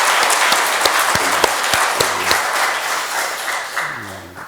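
A church congregation applauds during a Sunday worship service, broad steady clapping from many people filling the room, with a few sharper claps standing out before it thins toward the end.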